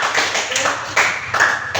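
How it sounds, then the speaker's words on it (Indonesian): Short burst of applause for a student group in a classroom lesson, a handful of uneven claps from a small gathering, brief and fairly close. "tepuk tangan buat kelompok"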